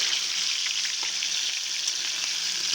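Chicken and onions fry in a pan in a continuous, even sizzle, close and steady throughout with no speech or other sounds.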